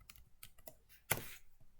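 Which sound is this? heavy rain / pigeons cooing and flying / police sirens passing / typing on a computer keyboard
typing on a computer keyboard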